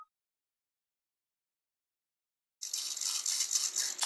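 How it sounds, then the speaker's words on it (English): SG90 micro servo motor driven by an Arduino, silent at first and then a close, steady high-pitched whirring buzz as it starts sweeping, with no voices. "as you can see, the motor is moving 180 degrees"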